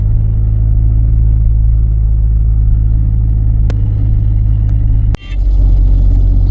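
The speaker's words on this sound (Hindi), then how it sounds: "उसी स्पीड पे गाड़ी चल रही है अभी" A car cruising at a steady speed of about 35 on a road in Rajasthan, heard from inside as a loud, constant low rumble and road drone, with a sharp knock or bump near the end.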